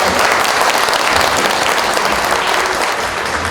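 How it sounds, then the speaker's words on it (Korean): Sustained, loud audience applause fills a Korean business agreement signing ceremony held before a concert, steady dense clapping from a crowd with no break throughout. "여러분 박수 부탁드리겠습니다."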